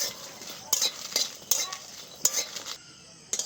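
Garlic and dried red chillies dry-roasting in a pan without oil, with close spatula scrapes and metallic clinks over a soft, steady sizzle and a few sharper strokes.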